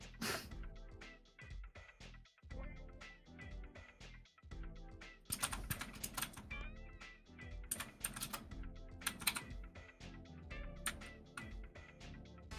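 Close, clear typing on a computer keyboard: rapid irregular clicks with brief pauses and a few heavier keystrokes, no talking.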